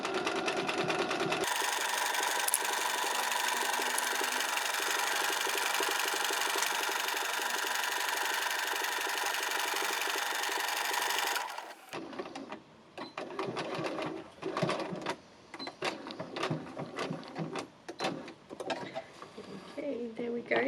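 A sewing machine stitches a pocket onto a backpack, running in one loud steady burst for about ten seconds, then stopping; quieter handling clatter and fabric noises follow.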